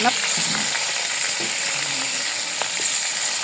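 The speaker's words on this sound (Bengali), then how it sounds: "কড়াইতে ছেড়ে দিলাম, খুব ভালোভাবে আমরা উল্টে পাল্টে এখন ভেজে নিব" Chicken pieces fry and get turned in a wok, a dense, close sizzle holding steady throughout with light scraping movements underneath and no talking.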